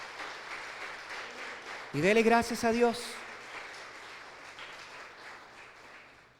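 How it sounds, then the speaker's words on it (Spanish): A church congregation applauds during a general Sunday service. The steady clapping runs throughout, with a voice speaking loudly over it for about a second in the middle. "dele un aplauso al Señor si quiere dárselo"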